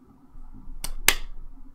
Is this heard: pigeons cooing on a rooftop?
no